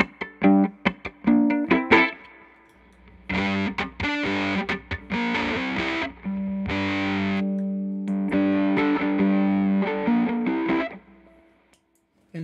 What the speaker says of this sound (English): I would say the Bunnel is very hard clipping